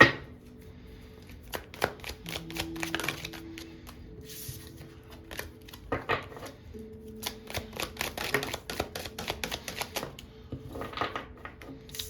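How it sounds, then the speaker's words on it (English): A stiff deck of tarot cards being shuffled in close quarters, producing quick bursts of crisp riffling and snapping clicks at an irregular rhythm, with no voices. "I'm gonna have to give this a good shuffle. It's one of those stiffer decks."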